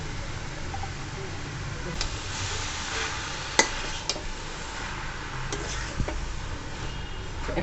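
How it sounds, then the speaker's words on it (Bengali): Raw jackfruit and chicken mince frying for cutlets in a pan, a steady soft sizzle with occasional scraping stirs and light clinks of a utensil against the pan. "এখন এটাকে কিছুক্ষণ ভাজবো ভাজা ভাজা হয়ে গেলে তারপরে নামাবো"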